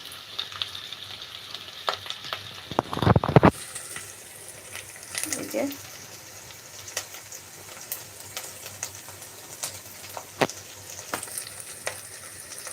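Leafy greens frying with red chili in a pan, a steady close sizzle with occasional stirring scrapes and a louder burst of activity early on, under soft background voices.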